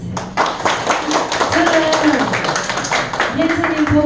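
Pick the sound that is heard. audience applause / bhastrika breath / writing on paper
audience applause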